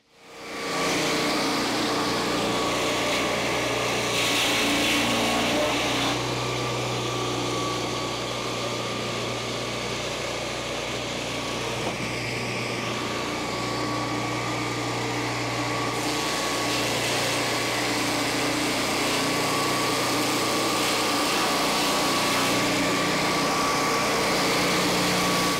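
A Turbosawmill's small engine drones loud and steady as it cuts a board from a small log, holding a constant high-pitched roar with slight shifts in load over about half a minute, without talking.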